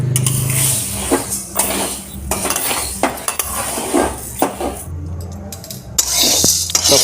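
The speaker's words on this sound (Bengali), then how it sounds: "এরপর অন্যদিকে কড়াইগুলো ভেজে নেব।" Peas frying in a pan, with repeated sharp clinks and scrapes of a metal utensil stirring against the pan over a light background sizzle, close and uneven in rhythm.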